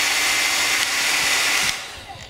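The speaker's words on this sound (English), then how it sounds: "this is a hairdryer that has also, apart from the hot setting, has a cold setting" A hair dryer on its cold setting, used for blacksmithing, blows with a steady, loud airy whoosh, then cuts off and winds down.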